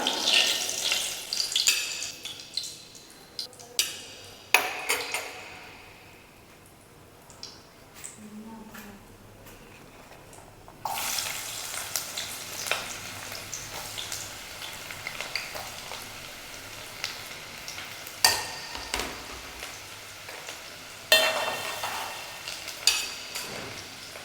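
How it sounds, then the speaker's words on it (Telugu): Onions with cardamom pods, black peppercorns and cloves sizzle in a pan for a chicken curry, a steady close frying hiss broken by sharp spoon clatters, with a quieter lull midway before the sizzle swells again. "ఉల్లిపాయలన్నీ కూడా మంచి బ్రౌన్ కలర్ వచ్చే వరకు వేయించుకోవాలి"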